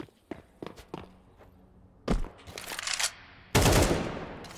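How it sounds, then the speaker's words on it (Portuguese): Gunfire echoes inside a church in Counter-Strike 2, with scattered thumps and footsteps followed by a few sharp, loud shots and a final burst that rings out in the room. "dá tiro dentro da igreja é proibido, tá?"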